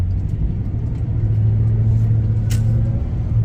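A 2000 van rolling along a road with a loud steady low engine and tire rumble filling the cabin, a constant drone with no talking.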